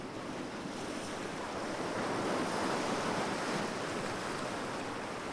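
Ocean waves roll and wash in a steady, full surf roar with wind noise, swelling slightly in the middle and easing toward the end, with no voices.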